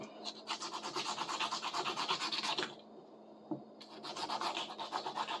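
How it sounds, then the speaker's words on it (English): Hand sanding of an old, cracked wooden hand plane being restored, a steady rhythmic rasping scrape in repeated strokes, close and fairly loud, with a brief pause in the middle before the strokes resume. "I'm going to deal with those with glue after I sand it."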